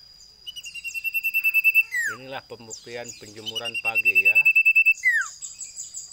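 A young cipoh (iora) songbird taken from a jengkol tree sings close by, repeating bright whistled notes and rapid pulsed trills in bursts while someone talks over the song.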